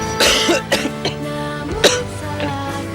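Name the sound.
cough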